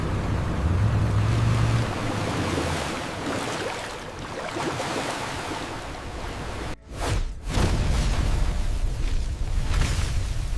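Tsunami floodwater surging through Sendai city streets, a loud, continuous roaring wash of turbulent water with a brief dropout partway through before the rushing resumes.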